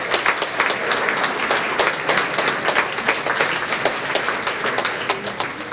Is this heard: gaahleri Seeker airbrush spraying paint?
no